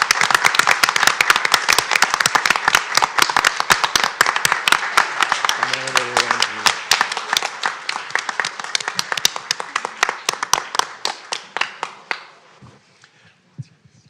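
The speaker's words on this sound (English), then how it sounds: "Let's give another round of applause to Stephen David Simon" An audience applauds at a disabilities advisory board award presentation, dense clapping, loud and sustained for about twelve seconds, then thinning out and fading to a few scattered claps.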